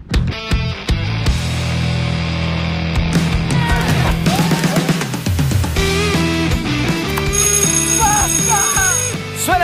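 A busy, loud mix of ringing electronic tones and jingling music plays continuously in a TV game-show studio, with bright bell-like chimes layered over a steady backing.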